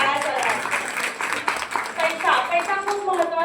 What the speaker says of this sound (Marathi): मॅडमसाठी एकदा टाळ्या करा